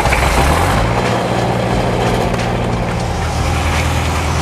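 A gas engine-driven welding machine converted to diesel runs steadily on a work site, its loud, even low drone carrying a constant hum that never changes across the whole stretch.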